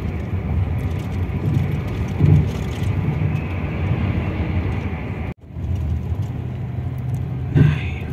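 Steady interior rumble of a Scania coach bus cruising on a toll road, a continuous low engine and road drone with a brief dropout midway, no talking.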